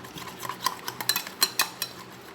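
A spoon stirs a coin biscuit batter in a bowl, giving a quick run of close scraping clicks and light clinks against the bowl over a couple of seconds, with no speech.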